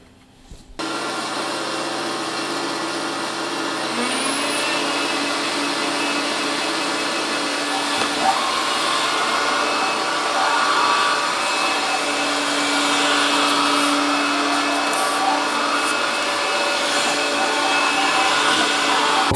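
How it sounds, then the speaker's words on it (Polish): An iRobot Scooba 450 robot floor washer starts after a brief quiet moment and runs with a steady loud motor whir and hiss, the pitch shifting slightly as it moves across the floor. "tak naprawdę jest to robot myjący podłogę"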